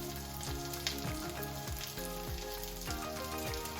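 Vegetables for Korean japchae stir-fry sizzle steadily in a hot pan, a dense, loud frying hiss that runs without a break and is close to the listener, with no talking.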